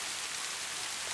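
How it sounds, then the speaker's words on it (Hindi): Heavy rain pours down in a cartoon jungle, a dense, steady hiss of falling water with no break and no voices. "बारिश बहुत तेज है,"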